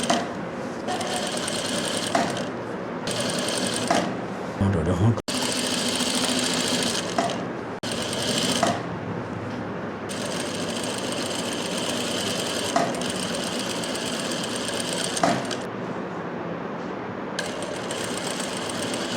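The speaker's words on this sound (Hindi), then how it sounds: "अब मैं इस पर डबल सिलाई लगा रहा हूँ" A sewing machine runs loud and close, stitching a sleeve onto a kurti in long rapid bursts. Brief pauses break the stitching several times before it starts again.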